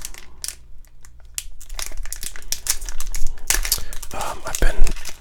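Sports card envelopes are torn and unwrapped, with close, crisp crinkling and tearing bursts of paper that grow busier and louder toward the end, alongside soft whispering.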